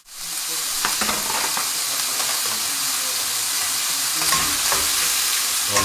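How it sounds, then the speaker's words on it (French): Veal kidneys sauté gently in a pan, giving a steady soft sizzle and hiss with occasional stirring scrapes and small pops, close and continuous throughout. "Alors on fait revenir doucement."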